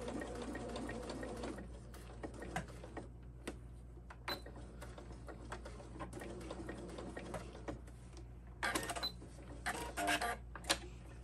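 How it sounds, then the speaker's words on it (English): A sewing machine runs a back stitch on a zippered pouch, a low steady hum with faint clicking mechanism, interrupted by brief ticking bursts near the end; moderately quiet and close, with no talking. "we're going to finish off where we started with a back stitch"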